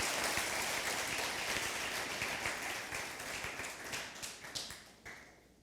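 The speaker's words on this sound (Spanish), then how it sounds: "Dale un aplauso al Señor por eso." Church congregation applauding during a Spanish-language sermon, a loud dense wash of many hands clapping that gradually thins into scattered individual claps toward the end.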